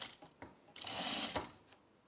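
A sewing machine top stitching a bralette seam, a few short mechanical clicks followed by a brief burst of fast whirring stitches, then a final short run, close and fairly quiet.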